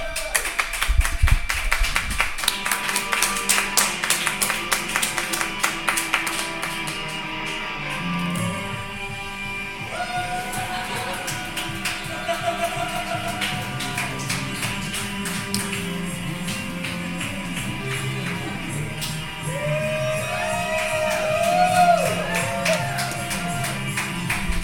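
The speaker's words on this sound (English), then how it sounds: "Let's give a big round of applause for the first show of the day" A live podcast audience at PodSlam 2017 breaks into clapping, a quick rattle of hands that thins as music with sustained tones and chirpy melodic figures takes over for the rest of the stretch.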